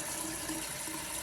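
Water from a hot water tank gushes steadily through a drain during anode replacement, a continuous rushing flow with no pauses, moderately loud and close.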